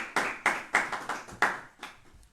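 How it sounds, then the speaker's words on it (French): A church congregation claps in a loose, slightly uneven rhythm, about six sharp collective claps spaced roughly a third of a second apart, the last few fading weaker. "Applaudissez le Seigneur bien fort"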